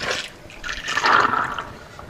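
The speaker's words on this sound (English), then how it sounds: "now we'll fill this up and put some water in here to let them soak for 10" Water pours into a container to soak microgreen seeds, a bright splashing gush that swells in the middle and eases into a softer trickle.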